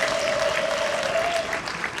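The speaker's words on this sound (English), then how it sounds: "can we give him a very big round of applause for sharing with us?" An audience at an evening event gives a steady, full round of clapping that continues without a break.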